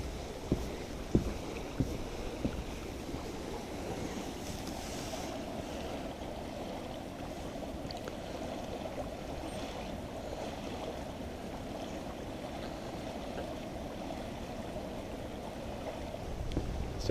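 A river running fast and swollen after a storm on a trail walk, heard as a steady broadband rush of flowing water, moderately near and continuous, with a few faint knocks early on and no talk.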